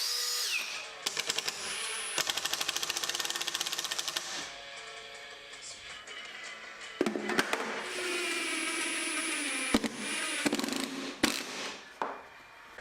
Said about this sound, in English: I could just screw directly into the wall